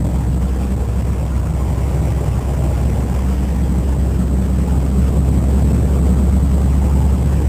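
A 1955 Fargo truck in four-wheel drive rolls at moderate speed along a snowy, icy, slick road, its engine droning low and steady with constant road rumble from start to finish, no talking.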